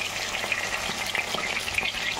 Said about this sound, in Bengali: আলুটা একটু ভাজা ভাজা করে তারপর পেঁয়াজটা দেবো।